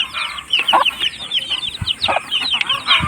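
Chickens clucking close by, a mother hen with her chicks, in a busy run of overlapping clucks and short calls with no one speaking.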